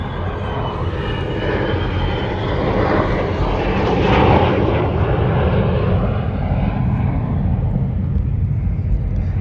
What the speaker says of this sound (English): There goes the F-15 again. You can hear it as it flies by.